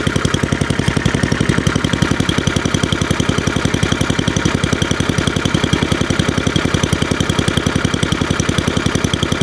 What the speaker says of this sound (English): Now it's running okay. But you could certainly tell that it takes a few minutes to warm up there.